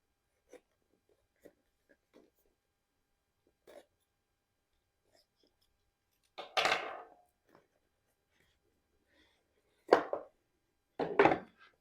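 A cardboard product box holding a Gowutar HHC-B22 budget rifle red dot sight is sliced open. A few sparse ticks lead into three short, close scraping and tearing bursts, with no talking.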